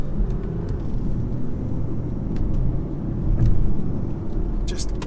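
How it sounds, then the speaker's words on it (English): A Porsche Macan S on the move gives a low rumbling engine drone with rising surges and road noise, steady and close, beneath a quiet cabin. "You get nice turbo noises from the engine."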